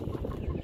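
Chickens cluck close by in a low, busy jumble of short calls, with no talking.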